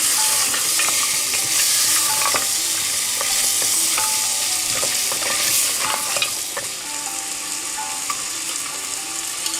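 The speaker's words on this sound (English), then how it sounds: "stir it so that the chili powder gets sauteed with oil and it gives better color." Chili powder stirred and sautéed in hot oil for Rogan Josh, a steady close sizzle with repeated scraping strokes of a spoon across the pan.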